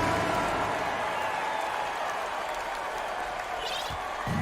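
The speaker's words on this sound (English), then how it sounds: "Fans, please give a big round of applause for your Pacers youth" Crowd applause fills an arena during the fourth quarter of a simulated basketball game featuring the Indiana Pacers against Washington, with steady broadband clapping and cheering throughout.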